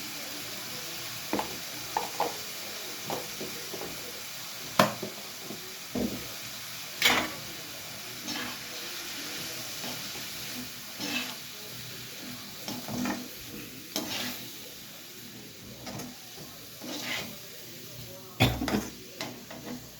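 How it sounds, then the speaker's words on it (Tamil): Noodles and vegetables are sautéed in a pan with salt and turmeric, giving a low steady sizzle broken by intermittent scrapes and clinks of a spatula stirring against the pan, with no voice heard. "உப்பு மஞ்சள்தூள் மட்டும் போட்டு நல்லா வதக்கி வேக விட்டுக்கலாம்."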